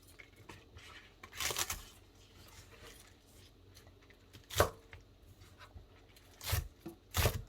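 A knife chops 80 g of sliced green onion (daepa) finely on a cutting board, a few distinct loud chopping strikes spaced out among quieter handling noise.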